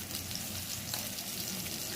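Eggplant fries in a pan for a methi shak fry, giving a steady, dense sizzle close up with no voices.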